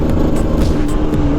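Honda CRM250R supermoto engine running high at around 4000 rpm with an abnormal noise, a loud steady buzzing drone with rough irregular clatter layered through it, close up.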